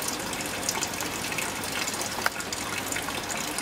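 Coolant water gushes steadily out of a pulled lower radiator hose on a turbocharged Miata kart, a constant splashing pour that is moderately loud and runs uninterrupted.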